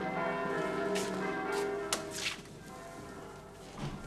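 Church bells of Warsaw ringing through an open window, sustained tolling tones with a few brighter strikes standing out, moderately distant and fairly quiet, with no talk over them.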